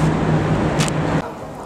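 An older, classic-style motorbike out on a test ride gives a steady, loud engine and road rumble with a low hum throughout. It eases off slightly about two-thirds of the way through.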